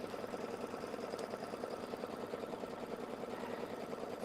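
A Kimberbell project is being quilted on an embroidery machine using no-show mesh and batting, with a steady, fast mechanical whirring and stitching that runs unbroken and at an even level throughout.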